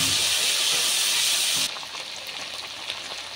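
Water poured into a hot pan of ground spice pastes, including ginger and dried red chilli, for a vegetarian milk-and-pointed-gourd curry, bursts into a loud, broad hiss that drops sharply to a quieter sizzle partway through.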